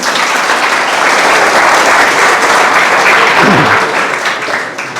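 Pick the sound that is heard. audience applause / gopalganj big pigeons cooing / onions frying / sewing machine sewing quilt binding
audience applause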